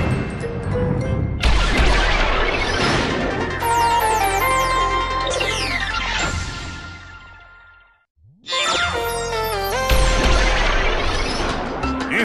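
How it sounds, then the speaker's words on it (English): A massive shockwave blast from stacked Blitzer weapons in the video game Ratchet & Clank: All 4 One, a loud crashing, booming barrage with sweeping effects that cuts out briefly near the end before erupting again. "Using more than one pair of Blitzers will trigger a massive shockwave"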